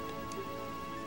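Steady rain from the Song of Storms in the Majora's Mask video game, a continuous hiss of falling drops and patter on surfaces with faint game tones, no talking.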